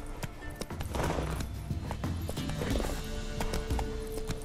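Roach, the horse in The Witcher 3, gallops in a rhythmic clip-clop of hooves at close range, with a brief whinny and scattered game sounds mixed in.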